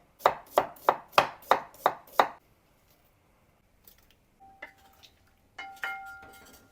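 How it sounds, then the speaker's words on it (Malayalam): Half an onion is chopped with a knife on a board for a prawn curry: seven crisp, evenly spaced chops in quick succession, close and clear, then quiet with a few faint clinks and small kitchen sounds. "ഞാനൊരു ഹാഫ് സവാള ഇപ്പൊ തന്നെ കട്ട് ചെയ്ത് ആഡ് ചെയ്യുന്നുണ്ട്"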